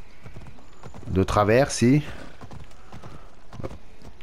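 Horse hooves clip-clop steadily as a mount climbs a mountain in the video game Assassin's Creed Odyssey, a rhythmic run of hoofbeats under someone speaking French.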